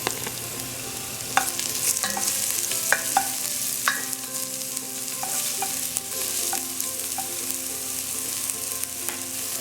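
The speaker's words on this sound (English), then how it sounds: "once the oil is heated properly, we're going to add our onions, pimento," Onions, pimento and garlic fry in heated oil with a continuous loud sizzle, punctuated by repeated clinks and scrapes of a utensil stirring the pan, with no voices.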